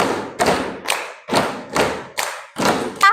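Five sharp hand claps in a steady, evenly spaced rhythm, loud and close, with no voices.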